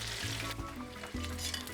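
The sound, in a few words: chicken wings sizzling in a frying pan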